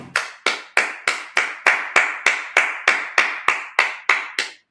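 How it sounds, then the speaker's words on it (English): A congregation at a Sabbath service claps in unison, fourteen sharp evenly spaced claps at a steady brisk tempo, loud and close with no talking. "Let's clap it up."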